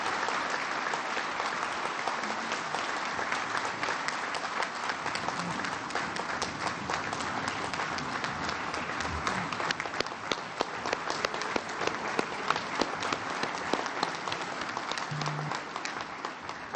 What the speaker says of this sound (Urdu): آج میں سب کو چاہوں گا کہ ذرا زوردار اپلاز کے ساتھ ڈاکٹر طارق کو